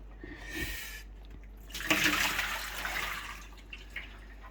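Water gushing and splashing through the pressure release valve of a Pinter home brewing keg being rinsed, a faint trickle swelling into a louder rushing flow, then easing with small drips, no talking.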